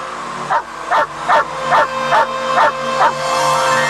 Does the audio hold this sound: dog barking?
yes